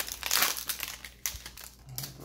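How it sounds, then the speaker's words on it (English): A 1991 Fleer baseball card pack wrapper crinkles and tears as it is pulled open by hand, with bursts of crisp plastic rustling close to the microphone. "Fleer cards are just hard to open."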